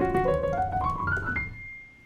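Jazz piano, a quick two-handed run climbing upward through overlapping notes and ending on a ringing high tone that fades, with no talking.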